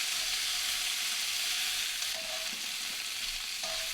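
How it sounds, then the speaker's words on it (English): Capsicum fries in a very hot pan, a loud steady sizzle with faint stirring scrapes, close and continuous with no talking. "Now we'll fry the capsicum as well."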